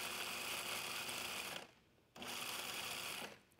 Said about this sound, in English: We're just going to pulse it a few times just to chop them up even finer.